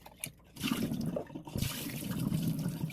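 Rinse water is poured off sprouting radish seeds, a close, splashy pour that swells after a brief quiet gap and runs on steadily for a couple of seconds.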